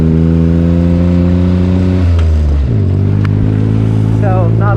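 Turbocharged Mitsubishi 3A92 three-cylinder buggy engine with a K03 turbo, loud and close, revving steadily on trails, its pitch dropping sharply partway through before settling into a lower drone; no one speaks.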